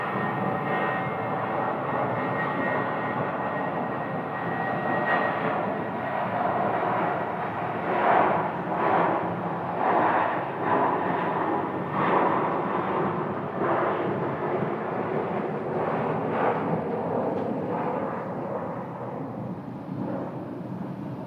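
An airliner takes off at Phoenix Sky Harbor, a broad, steady jet roar that swells and holds at a distance for about twenty seconds before slowly easing off.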